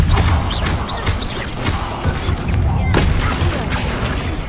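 Spell combat in Hogwarts Legacy with Confringo and Incendio casts: dense, loud, continuous blasts, booms and crackling magic effects layered with a tense music score, under a voice calling out spell names.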